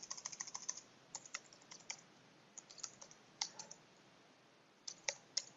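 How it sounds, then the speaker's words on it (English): A password being typed on a computer keyboard, quiet close clicks in short irregular bursts with pauses between them, in an otherwise silent room. "Talking and typing passwords is complicated."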